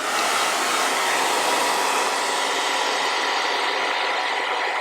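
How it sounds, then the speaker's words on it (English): A blow dryer on a cool setting runs steadily while drying hair on a wig, a loud, even broadband whoosh with no break and no talking. "then I'm gonna take my blow dryer on a cool setting and let it dry"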